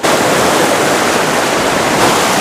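River water rushing steadily at Srikhola, a continuous loud broadband roar without breaks, close and filling the scene with no voices.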